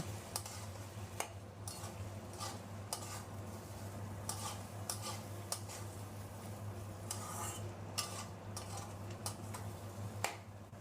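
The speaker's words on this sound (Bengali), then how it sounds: "চিংড়ি মাছের ভেন্ডি একসাথে মিশিয়ে নেব।" Fried okra and shrimp being stirred together in a pan, a soft steady sizzle broken by sharp scattered clicks of a utensil against the pan, with no voices.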